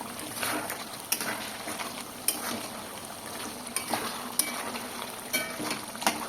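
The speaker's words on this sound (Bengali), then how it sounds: "তো লবণটা দেওয়ার পরে আরও কিছুক্ষণ কষিয়ে রান্না করতে থাকবো।" Chicken curry with salt being stir-fried in a pan, a steady low sizzle with scraping stirs and a few sharp clinks of the utensil against the pan.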